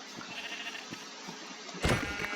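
Minecraft sheep bleating in a game world, a single loud bleat near the end following quieter ambient game sounds, with no talk over it.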